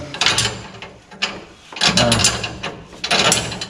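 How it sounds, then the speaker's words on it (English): A wrench tightening bolts, U-bolts being snugged down, gives three close bursts of rapid ratcheting clicks with short pauses between them and no talking. "tighten these things up with a wrench"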